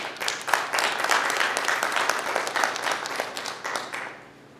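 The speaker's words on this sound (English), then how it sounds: "they deserve a round of applause for everything they've done" Audience at a school board meeting breaking into a round of applause, a full burst of clapping that stays strong for about four seconds and then fades quickly.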